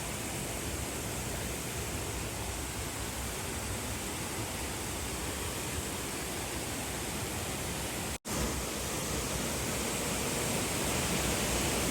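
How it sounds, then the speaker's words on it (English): A waterfall in Niigata, Japan, roars as a steady, dense broadband rush at close range, unbroken for the whole stretch apart from one momentary dropout. "Right next to the waterfalls."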